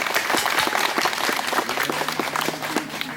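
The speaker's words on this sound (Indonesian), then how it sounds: "Tepuk tangan." Loud, dense applause from an audience at a youth meditation gathering, many hands clapping quickly and continuously with no voices over it.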